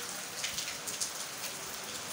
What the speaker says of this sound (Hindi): और बड़ी तेज बारिश हो रही है दोस्तों